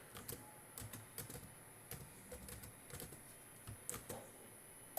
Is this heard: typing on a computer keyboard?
yes